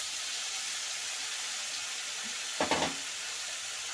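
Spiced fish pieces with mustard paste, salt and turmeric fry quietly in a pan, giving a soft, even sizzle throughout, broken by a brief clattering stir or scrape near the end.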